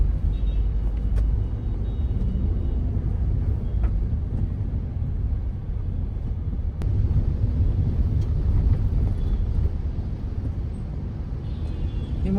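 Heavy road traffic on a busy Mumbai route between Airoli and Kalwa: a constant low engine rumble from passing cars and larger vehicles, with an occasional faint hiss or click, and no talking.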